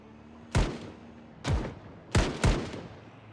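Four sharp, loud gunshot cracks from an AK rifle inside the zombie-survival video game Project Zomboid, spaced irregularly about a second apart, the last two close together, each with a short fading tail.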